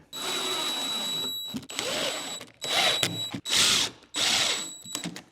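A power driver drives screws through thin 1/4 inch material into a homemade range hood, heard as several loud whirring bursts separated by short pauses, close up with no talking.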